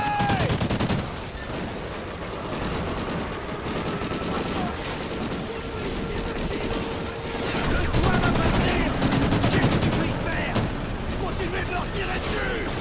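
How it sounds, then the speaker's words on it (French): Call of Duty Ghosts combat: bursts of automatic gunfire and scattered shots crackle loudly throughout, with voices speaking over the firefight. "Continuez de leur tirer dessus."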